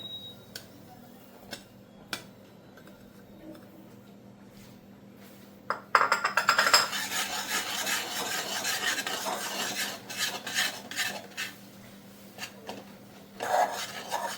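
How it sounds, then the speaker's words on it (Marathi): Rice flour being stirred into boiling water in a pot for modak dough. A spoon scrapes against the vessel, quiet at first, then busy and steady from about six seconds, with clinks of metal on metal and no talk. "चांगलं असं ढवळून घ्यायचं"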